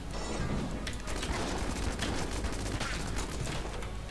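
A gun fires in the video game Enter the Gungeon with a steady, loud stream of rapid shots that packs the whole stretch, overlapping with scattered impacts and mechanical clatter.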